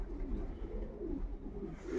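Soft, low pigeon cooing murmurs continuously at close range inside a breeding loft, several birds overlapping in a steady rumbling hum.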